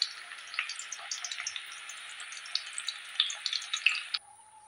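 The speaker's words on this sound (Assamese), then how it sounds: "এতিয়া মই 2 নম্বৰ দুটাও এইদৰে ভাজিম।" Snacks frying in a pan of oil give a steady, close crackling sizzle dotted with small pops, which cuts off abruptly near the end and leaves a faint hiss.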